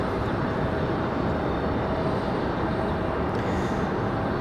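An Icelandair airliner arrives at Raleigh-Durham International Airport, its jet engines giving a steady, broad roaring rumble heard from a distance, continuous and unbroken.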